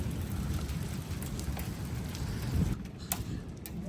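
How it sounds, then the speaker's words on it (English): Hail falling during a severe thunderstorm, heard as a dense, steady rattle of stones striking the ground and surfaces, with a few sharper isolated impacts near the end. "I think this is the hail."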